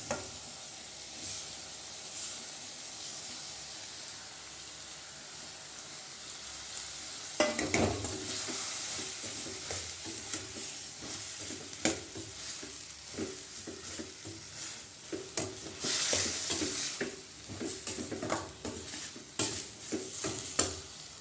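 Goat lung gravy stirred and frying in a pan, with a steady sizzle and repeated scraping spoon strokes that grow busier and louder midway, and no talking.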